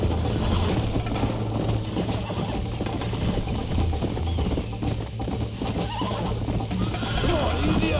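Horse sounds from the Red Dead Redemption game, with steady hoof clip-clops and a whinny under continuous background game audio, while someone talks over it.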